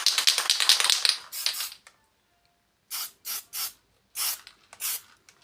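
Spray paint hisses onto a Nerf blaster shell: a long, steady burst, a short pause, then several quick, evenly spaced short sprays, close and fairly loud with silence between them.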